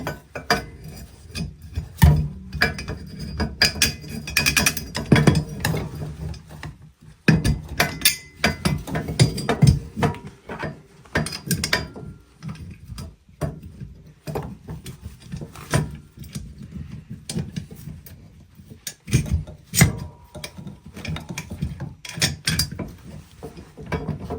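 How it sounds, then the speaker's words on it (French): Screws are driven in by hand to fix a part on a quad-based soapbox cart's front end. Irregular close mechanical clicks, ratcheting and knocks come in bursts with brief pauses, and no voices are heard. "Je vais fixer. Je vais mettre les vis dedans."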